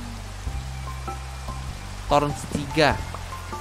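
Steady soft rain patters in Minecraft beneath a person talking, with a few brief game tones rising over the continuous wet hiss.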